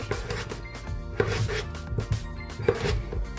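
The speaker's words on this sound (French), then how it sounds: "Je coupe la courgette, pareil, je vais couper les 2" A knife chopping courgette on a board, with a steady series of crisp, close cuts at an even rhythm and no talking.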